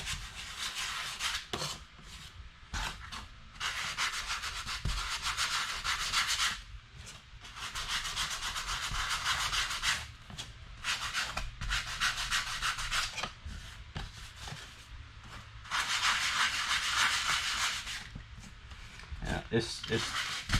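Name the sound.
lightly sanding wooden coaster with 220 grit sandpaper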